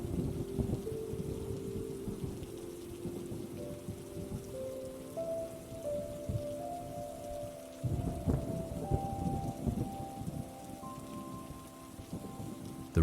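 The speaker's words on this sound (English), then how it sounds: "The rain is your blanket, soft, endless." Steady rain falls onto a surface in a soothing, continuous wash, with low rumbles of thunder rolling beneath it and a soft tonal drone running through; no voices.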